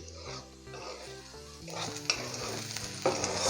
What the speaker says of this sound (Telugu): చూడండి ఎంత బాగా రోస్ట్ అయింది